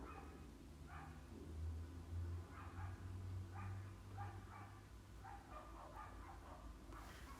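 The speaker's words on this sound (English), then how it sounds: "the dogs are getting louder" Several dogs barking in bursts at a moderate distance indoors, repeated yaps and woofs over a steady low hum, with no talking.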